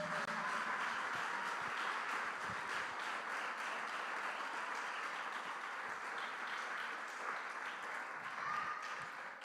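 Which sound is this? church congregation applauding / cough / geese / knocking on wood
church congregation applauding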